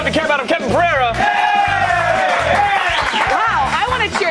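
A studio audience cheering and whooping loudly, sustained rising yells and shouts from many voices that fill the whole stretch, with a voice over the top.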